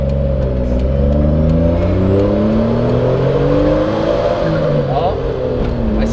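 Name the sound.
JDM kei van engine accelerating uphill with boost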